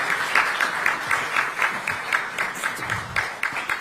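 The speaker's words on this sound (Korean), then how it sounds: "다시 한번 큰 박수로 감사의 표시해 주시기 바랍니다" An indoor audience applauds after a lecture, dense steady clapping from many hands with a lightly pulsing rhythm, fairly close, with no talking over it.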